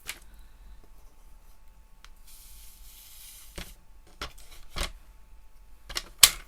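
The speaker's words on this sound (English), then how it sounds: "I will use my trimmer because I want to get it straight" A paper trimmer slices a sheet of pink paper: a soft sliding swish runs along the blade, followed by several sharp, close clicks and snaps as the cutter is set and pressed.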